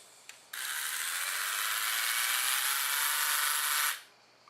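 A Braun Silk-épil electric epilator switches on and runs with a steady high buzzing whir for a few seconds, then winds down and stops, close and alone.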